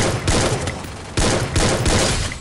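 Loud bursts of gunfire rip through a Free Fire mobile battle in a team deathmatch, with a grenade pistol in play, in two dense, close volleys separated by a brief gap.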